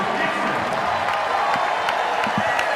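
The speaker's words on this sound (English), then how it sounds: "So a big round of applause for Liz Dixon" Crowd applause at a Louisville versus Wake Forest women's basketball game for player Liz Dixon, a steady wash of clapping and cheering from the arena under a commentator's voice.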